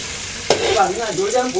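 Raisins hit hot ghee with a sudden sharp burst, then a steady close sizzle and crackle while they are stirred.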